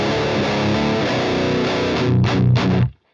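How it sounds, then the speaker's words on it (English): Heavily distorted electric guitar played through a Marshall amp simulation with a Jens Bogren Strange Attraction impulse response, chugging loud and close for a few seconds with two sharp stabs before cutting off abruptly. "which is a Marshall amp simulation combined with the Jens Bogren Strange Attraction IR, and it sounds like this"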